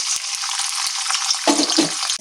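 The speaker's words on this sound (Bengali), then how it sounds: "আলু ভাজার তেলটা বেঁচে গেছে, ওই তেলের মধ্যে একটু হালকা করে নারকেলটাও ভেজে নেব" Grated coconut frying in leftover potato-frying oil for aloo narkol kosha, a steady close hiss of sizzling oil with a burst of stirring clatter near the end.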